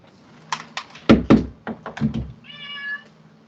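A cat meows and chirps several times up close, mixed with soft thumps and knocks, ending in a higher, drawn-out trill.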